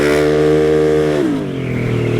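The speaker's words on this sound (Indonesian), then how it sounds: "Wah ini si motor lebih enak lagi jambakan-jambakannya beda banget nih dari yang sebelumnya" A Yamaha Aerox scooter engine revs steadily and loudly up close while riding, its tone dropping briefly midway and then settling back into a sustained hum.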